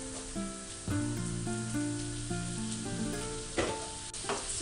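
Turkey sizzling in a pan for a turkey curry, a soft steady crackle of frying running beneath louder tonal music throughout.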